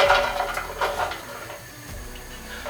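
Onions go into an oiled wok over low heat, giving a few close clinks and scrapes of utensils against the pan over a low background sizzle.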